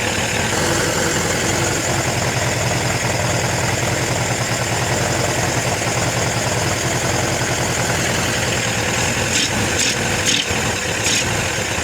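An old Suzuki motorcycle engine runs steadily and loud, a continuous rough idle with a mechanical rattle throughout, and a few brief higher ticks near the end.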